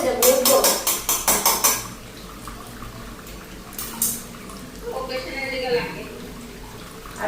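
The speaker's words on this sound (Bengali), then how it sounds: "আরো একটা বড় কড়াই রাখছি" Metal pots and a large wok (kadai) are clattered and set down in quick, loud clanks over the first two seconds, followed by quieter shuffling and faint background voices.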